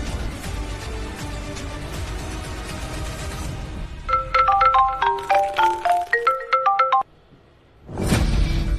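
A phone ringtone plays a bright, repeating electronic melody of clear chiming notes, close and loud, breaking off briefly before starting again; a low background murmur precedes it.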